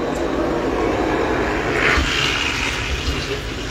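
An aircraft at Rabat International Airport makes a steady, broad engine roar, with a constant rushing drone and no clear pass-by.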